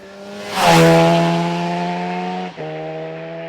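A Honda VFR750R RC30 V4 motorcycle engine with a Termignoni exhaust revs up and holds a steady, throaty tone with a brief dip as it shifts, loud and close.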